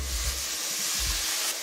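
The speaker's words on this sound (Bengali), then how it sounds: "এবার এই মশলাগুলোকে আমি ভালো করে কষিয়ে নেব।" Spices for a jackfruit paneer curry sizzle and hiss steadily as they fry in a pan, a close, constant crackle with a few soft low thumps beneath it.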